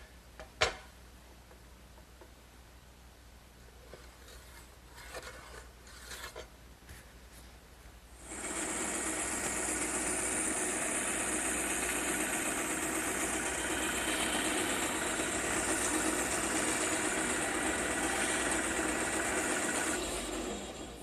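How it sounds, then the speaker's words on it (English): A bandsaw in a woodworking shop starts up after some quiet handling noise and a sharp click, then runs with a loud, steady whirring hum that continues unchanged for about twelve seconds. "it's quite a luxury to have a bandsaw like this in the shop, but it sure does a great job."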